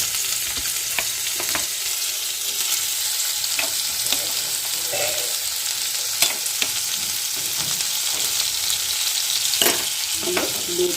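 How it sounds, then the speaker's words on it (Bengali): Ginger and green chillies fry on medium heat in a pan for a fish chop, a dense, steady sizzle with occasional light scrapes and taps of a spatula, close and with no talking. "এটাকে ভেজে নেবো"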